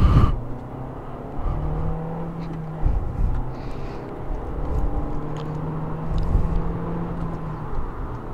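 A Volkswagen Polo engine pulls hard under acceleration while overtaking a small Opel on the road, a steady droning hum with rising tones and road rumble heard from inside the car, no voices.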